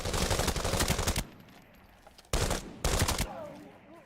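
Rapid automatic gunfire with heavy recoil in a video game match, in three dense bursts separated by short quieter gaps, loud and close.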